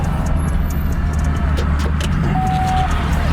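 A 2013 Camaro SS idles close by while backing up slowly, a deep, steady low rumble with no change in revs and a faint thin tone above it.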